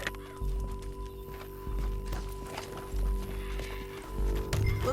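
Horse hooves clip-clopping in Red Dead Redemption 2, a steady, even rhythm of hoofbeats over a faint background hum, with no speech.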